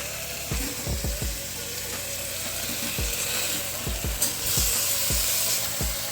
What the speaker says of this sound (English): we got a really good sear on these